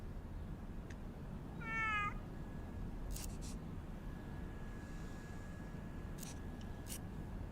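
A single drawn-out cat meow rises and falls once, close and clear, against a quiet, faintly hissing room, with a few soft ticks and taps before and after.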